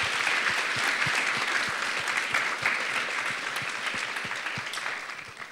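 An audience at a live science panel discussion gives a brief round of steady applause, dense clapping from many hands that gradually fades near the end.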